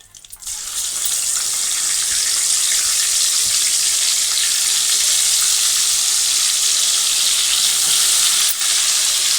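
Chicken legs sizzle loudly and steadily in hot oil, a dense continuous crackling hiss that holds from start to finish with no talking.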